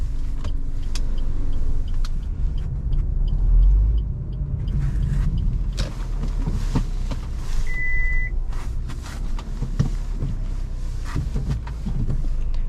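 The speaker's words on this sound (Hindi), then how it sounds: "अब गाड़ी घुमा के और मैं ड्राइविंग का थोड़ा सा गलियों में भी चलेंगे" A Maruti Ignis car driving slowly through narrow lanes, heard from inside as a steady low engine and road rumble with occasional clicks and a brief electronic beep partway through.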